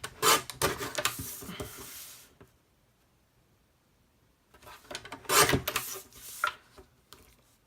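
Card stock is cut down to size for a handmade thank-you card, two short bursts of rasping, scraping strokes close up with a quiet pause between them.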